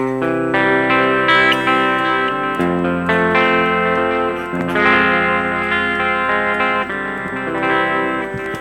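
An electric guitar runs through a Rocktron Prophesy effects unit, playing sustained distorted chords with echo and chorus, loud and close, with no talking.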